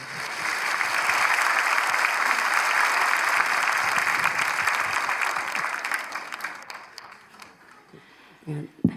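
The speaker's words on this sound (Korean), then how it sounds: "우리 박수로 환영할까요?" Church congregation applauds in welcome, a dense, steady wash of many hands clapping that holds for several seconds, then thins out and fades to a few scattered claps near the end.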